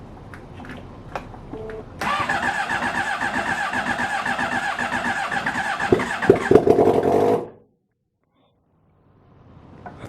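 Honda CBR600RR motorcycle, just back together after a head gasket replacement, cranks and fires into a loud, rough, revving run for several seconds, then cuts out abruptly into silence.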